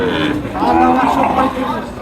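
A cow lets out a long, loud moo that swells and fades over about two seconds, with crowd chatter and livestock noise around it at a cattle market in Chapai Nawabganj, Bangladesh.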